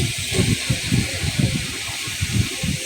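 Papaya pieces hitting a hot cooking pan with spices, giving a steady loud hiss and sizzle with soft pulsing bubbling underneath, close and continuous.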